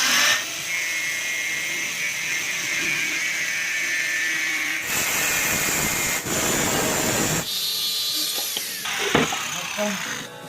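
A cutting wheel grinds steadily through a 32-inch LCD TV display panel, a loud continuous high-pitched whine that shifts in pitch and pauses briefly as the cut proceeds.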